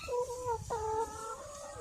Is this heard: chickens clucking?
yes